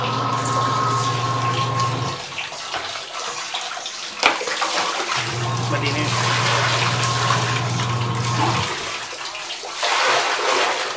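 Water runs steadily from a tap at home in the evening, a continuous near rush with a low humming tone that stops and restarts, while a person speaks briefly over it.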